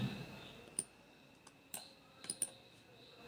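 Computer mouse clicks while working in a video editor, a few sharp, quiet, separate clicks spread over a few seconds against a faint hum, no talking.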